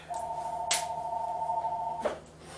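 A telephone rings in the background of a home kitchen, one sustained electronic ring tone lasting nearly two seconds, framed by brief clattering knocks, moderately loud and steady.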